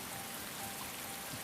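Rain in the Atelier Ryza 2 video game falls in a soft, steady, even hiss of drops on surfaces, faint and continuous with no voices.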